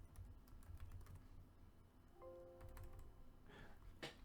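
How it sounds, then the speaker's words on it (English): Soft, quick keystrokes on a computer keyboard, a short burst of typing heard faintly over a low background hum. "do a Control F and type conclusion."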